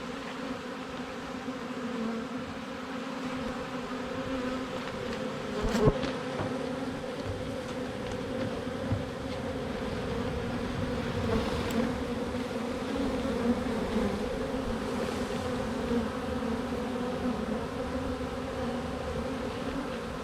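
A continuous low buzzing of a swarm of bees around a hive close by, steady and droning, with no voices.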